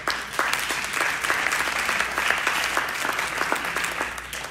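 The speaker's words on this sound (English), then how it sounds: "you can clap for that" Steady audience applause at a political talk on foreign policy, a dense field of many hands clapping continuously and evenly, fairly loud and close, with no voices over it for the whole stretch.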